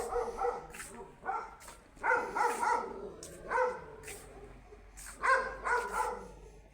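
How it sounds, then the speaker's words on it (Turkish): Two dogs barking nearby in repeated clustered bursts, loud and insistent with short gaps, some yips mixed in, over a faint low background hum. "Valla burada da iki tane köpek var ama paso havlıyorlar."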